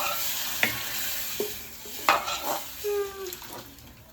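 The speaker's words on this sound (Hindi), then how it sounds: "लो भाई तड़का मारे" Hot tadka tempering for dal sizzles and spits in a pan while a utensil stirs and scrapes, with sharp metallic clinks of cookware over a steady frying hiss.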